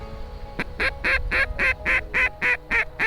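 A flock of ducks circles over an Idaho cornfield during a duck hunt. About nine loud, rhythmic quacks sound close by, one after another, over a low background rumble.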